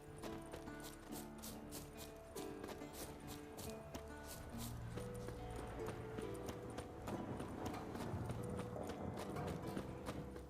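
Horse hooves clip-clopping in The Witcher 3, a steady rhythmic patter running under a dense game soundtrack and ambient effects, moderately loud throughout.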